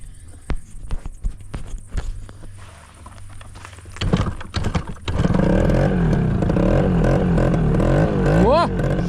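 A moped that often overheats is started at night, first with scattered clicks and thumps, then the small engine catches into a steady, close putter that holds to the end, with a rising rev near the finish.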